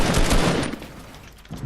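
A submachine gun fires in a competitive video game match: a loud, dense burst of rapid shots rattles for under a second, then fades into a quieter tail and another short shot.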